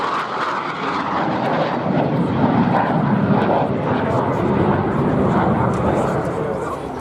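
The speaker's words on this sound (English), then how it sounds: "it's the beautiful Hawker Hunter T7" A Hawker Hunter T7 jet passes at the Duxford airshow in the UK with a loud, steady roar that swells slightly and holds throughout, while a commentator talks over it.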